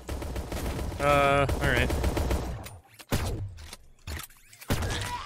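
Rapid gunfire from the regular gun in the online egg-shooter game Shell Shockers, a burst of loud shots followed by a few sharp single cracks, with a player speaking briefly over it.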